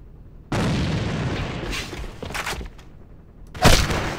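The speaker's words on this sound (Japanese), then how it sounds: "手榴弾投擲。" A thrown grenade blows up in the AVA shooter game: a sudden loud blast opens a long rumbling roar, more muffled bursts follow, and a final sharp explosion punches in near the end.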